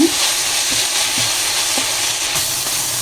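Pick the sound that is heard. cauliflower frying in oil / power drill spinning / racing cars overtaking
cauliflower frying in oil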